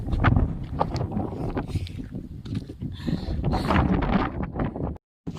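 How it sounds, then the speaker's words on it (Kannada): Strong wind blows across an open hilltop and buffets the microphone in loud, continuous rough gusts that rise and fall before cutting out abruptly at the end. "ಯಾವ ಥರ ಗಾಳಿ ಅಂದರೆ ನಿಲ್ಲಕ್ಕಾಗ್ತಿಲ್ಲ"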